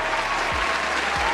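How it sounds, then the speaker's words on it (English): Steady round of applause from a crowd, a dense continuous patter of many hands holding at an even level for the whole stretch, with a couple of low thumps underneath. "I want to give a round of applause to Brother Keith"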